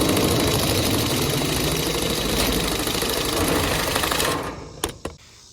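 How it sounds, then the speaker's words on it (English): Power nibblers cut metal board and batten siding with a dense, rapid chattering buzz, close and loud. The cut runs steadily for several seconds, then stops, leaving a few brief clicks and knocks. "And then we'll finish it with the power nibblers."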